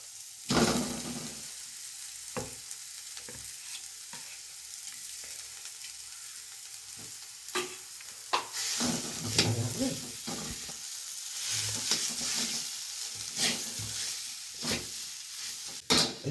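Boiled potato frying in a pan and stirred, intermittent scraping and knocking of a spoon over a soft ongoing sizzle, close and fairly quiet, with louder stirring bursts in the second half.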